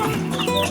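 Native and Shamo crossbreed chickens cluck close by in a short, busy burst of overlapping calls with farmyard background.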